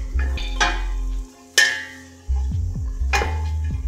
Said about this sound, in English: we're going to wait 5 to 6 minutes for our mirepoix to sizzle